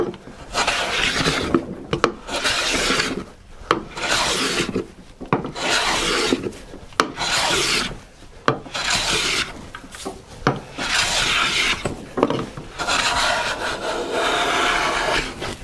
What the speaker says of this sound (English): I'm listening for when I have a nice, consistent cut all the way across.